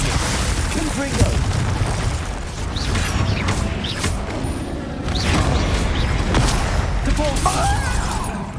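Confringo blast spell explosions in the Hogwarts Legacy video game goblin battle, repeated booming bursts and crashes over a constant clatter of combat effects, with voices shouting spells throughout.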